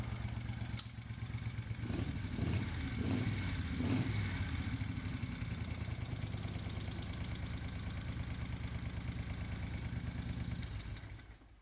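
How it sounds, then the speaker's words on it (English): An older Moto Guzzi motorcycle engine fitted with a homemade electronic ignition runs steadily at idle, its close, even low thrumming pulse continuing unbroken until it cuts off at the very end. "So now the bike is running, it's running well"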